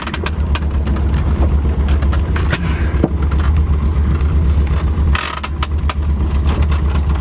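An old Renault car engine, left abandoned for nine years, runs loud and close with a rough, uneven rumble and a few sharp clicks and bursts, with no speech over it.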